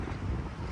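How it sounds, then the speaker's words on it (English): Wind buffets the microphone at the end of a cul-de-sac during a winter storm, a loud, steady low roar with gusty rumble throughout and no voices. "It's quite windy today."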